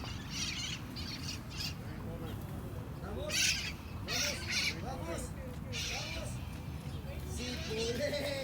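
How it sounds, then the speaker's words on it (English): Parrots squawk and chatter outdoors in Long Beach during an afternoon women's triples lawn bowls match. Scattered calls rise over steady ambient noise and talk. "You guys hear the parrots in the background?"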